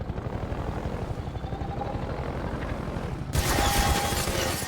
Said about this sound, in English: the helicopter will shoot at you.